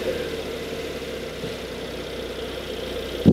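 Porsche 992 Carrera engine idling after start-up, a steady low hum held evenly throughout, with a brief louder thump near the end.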